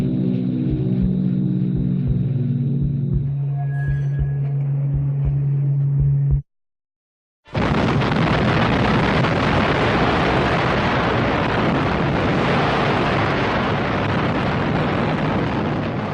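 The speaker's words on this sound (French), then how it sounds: "Elle explose une quarantaine de secondes plus tard, à 600 mètres au-dessus de Hiroshima." Atomic bomb Little Boy detonating 600 metres above Hiroshima: a loud, dense roaring blast that erupts after a brief silent gap and sustains as a heavy, continuous rumble, following a rising tonal hum beforehand.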